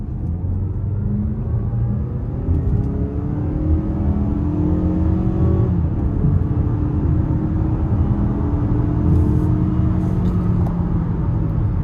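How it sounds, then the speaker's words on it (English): 2025 Mazda CX-5 Carbon Edition accelerating in sport mode, heard from inside as a steady, swelling engine rumble and road roar with rising whine, continuous and fairly loud without talking. "I'm going to put it in sport mode, give it a little throttle here."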